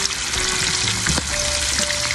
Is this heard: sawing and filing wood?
no